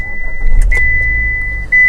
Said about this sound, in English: try switching off the car and try switching it on.